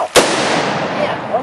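A single sharp .44 pistol gunshot cracks out close by near the start, then its loud echo rolls away. It is fired outdoors while hunting an alligator in Texas.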